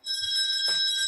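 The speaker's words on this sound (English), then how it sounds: "He loves that bell, Andrea." A hand bell rung for last orders in a pub, a bright sustained metallic ring with steady overtones lasting about a second, close and fairly loud over faint room murmur.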